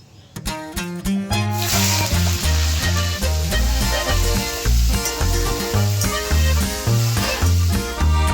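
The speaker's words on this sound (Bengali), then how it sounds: "এখানে তেল আর কালো জিরা দিয়ে দিয়েছি এবার লতিগুলো হালকা ভেজে নিই" Taro stolons fry lightly in oil with black cumin, a bright sizzle running under loud, rhythmic background music.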